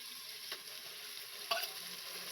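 Coriander and mint paste frying in a pan for prawn biryani gives a soft, steady close sizzle, with two brief spoon scrapes cutting through the quiet hiss.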